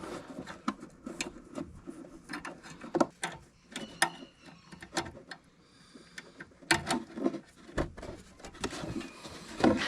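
Metal clicks and ratcheting from a wrench turning on a double drum roller, with irregular close-up clinks and scrapes arriving in uneven bursts.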